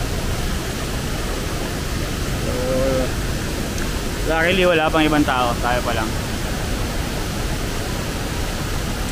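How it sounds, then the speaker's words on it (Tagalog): Steady roar of Talay Falls, a waterfall running heavy after recent rain, continues unbroken throughout, while a person speaks briefly over the rushing water partway through. "lakas ng tubig"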